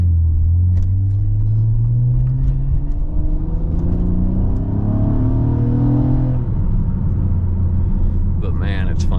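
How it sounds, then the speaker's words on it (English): A 2014 Honda Accord Coupe V6 engine pulls hard from inside the cabin, a loud low drone rising steadily in pitch through a gear, then dropping and climbing again near the end. "The engine's just so rewarding. You just want to go, you know? You want to give it the beans."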